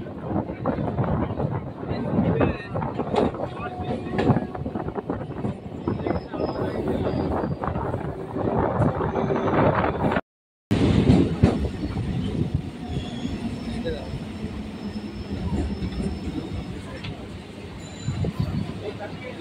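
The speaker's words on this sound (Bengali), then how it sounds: "আমাদের ট্রেন এখন গড়িয়া স্টেশন ছেড়ে বেরিয়ে যাচ্ছে।" A Kolkata suburban local train on the Sealdah–Sonarpur line pulls out of Garia station, with a loud continuous rumble of wheels on rails and squealing wheels. Wind buffets the microphone, and there is a brief silent gap midway.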